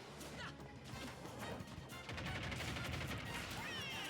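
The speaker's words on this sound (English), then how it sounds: "a TNT explosion on the left there" A TNT explosion goes off during a Super Smash Bros. doubles match, a dense burst of crashes and bangs buried in loud, continuous game noise and crowd sound.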